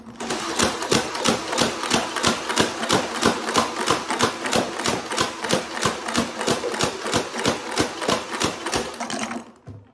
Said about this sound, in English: now we're going to do the fully automatic bit